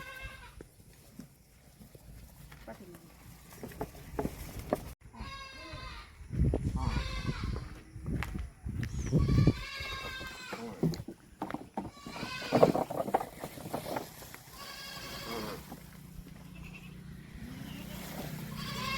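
Goats bleat repeatedly on a farm at feeding time as cut green fodder is put out, their wavering calls overlapping near and loud while someone talks over them.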